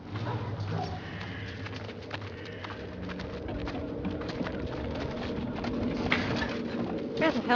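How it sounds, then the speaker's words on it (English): Pigeons or doves cooing and other birds calling in a film scene, layered over a steady outdoor ambience with occasional hoof clops, soft and moderately distant. "birds squawking"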